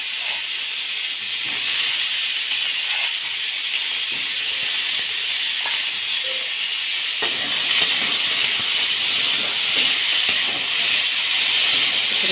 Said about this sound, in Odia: ସ୍ୱାଦ ଅନୁସାରେ ଲୁଣ ଆଉ ହଳଦୀ ପକାଇକି ଭାଜିବ